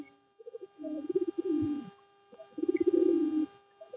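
Domestic pigeons scuffle and coo at close range, two bursts of deep rolling, throaty cooing separated by a short pause, with no voices in between.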